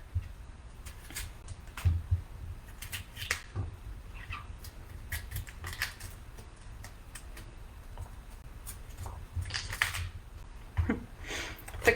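A knife cuts cauliflower florets from their stems on a cutting board in a home kitchen, making quiet, irregular clicks and taps with soft shuffling between the cuts.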